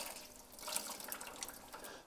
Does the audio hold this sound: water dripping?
yes